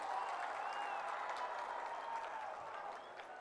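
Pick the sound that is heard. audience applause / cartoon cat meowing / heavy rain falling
audience applause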